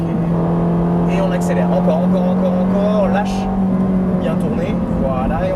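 A Ferrari 458 Italia accelerates hard on the Haute Saintonge race circuit, its engine a steady, loud drone that rises in pitch, with a driving instructor talking over it.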